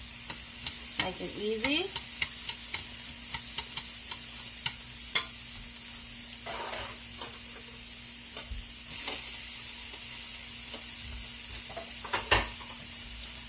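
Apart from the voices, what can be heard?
stir-frying bok choy and noodles sizzling in a pan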